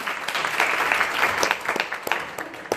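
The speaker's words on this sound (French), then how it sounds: "On peut les applaudir." Applause from a press conference audience, a dense patter of clapping that holds steady for a few seconds at moderate loudness, with no talk over it.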